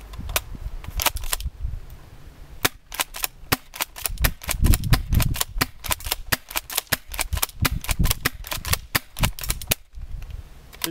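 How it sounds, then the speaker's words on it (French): Airsoft replica shotgun, an M56B modeled on the Franchi SAS 12 short, fired in a rapid string of sharp, snappy cracks recorded close up, sometimes in quick clusters, with a short gap before the shooting resumes and stops near the end. "je vais vous faire un gros plan sur la réplique lors du tir"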